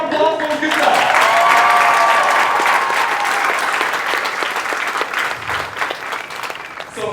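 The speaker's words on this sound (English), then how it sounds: "give us a round of applause, folks." A crowd applauds loudly and steadily at a US Air Force Basic Military Training graduation ceremony, with a few cheers and voices mixed into the clapping as it gradually thins out.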